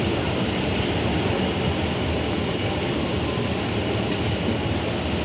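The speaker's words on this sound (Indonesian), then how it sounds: "Ini kedatangan kereta api komuter lain JR" A JR commuter line train arrives at a busy Jakarta station platform, a continuous loud rumbling roar of the rolling train held steady and close.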